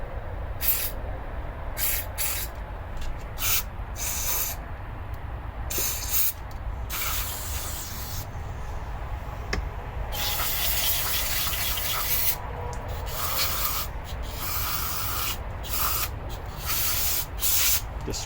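Cleaner sprayed through a Yamaha Raptor carburetor in bursts of harsh aerosol hiss, some short and some long, close and loud, with no talking.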